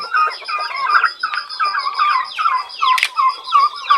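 Plymouth turkeys and other poultry on a backyard farm, giving a steady run of chirping, clucking calls close by, with one sharper squawk near the end and no talking.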